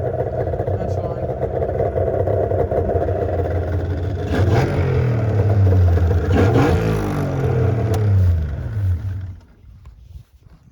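A 1997 Arctic Cat ZRT 600 snowmobile engine idles a little low with a steady two-stroke burble, briefly revving louder midway before settling and cutting off near the end, under a speaking voice.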